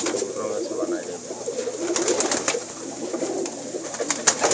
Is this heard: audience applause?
no